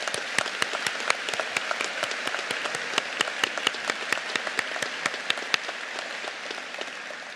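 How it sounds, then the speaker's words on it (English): Scattered applause from a church conference audience honoring Methodist congregations, with individual claps standing out sharply and steadily over a dense wash of clapping for about seven seconds before tapering slightly. "So we can clap for all of those right now"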